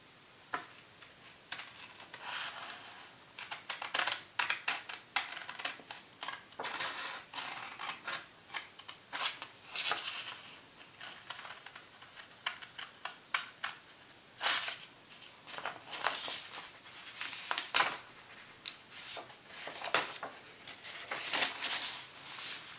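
Scissors cut paper for Christmas Tardis decorations at close range, with crisp, quiet snips and rustles coming in irregular bursts over a near-silent background.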